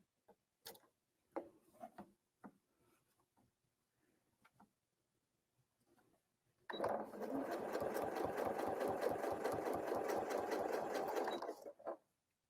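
A sewing machine quilting with rulers runs in a steady rapid mechanical chatter for about five seconds, preceded by scattered soft handling clicks and taps and ending abruptly, with no talking.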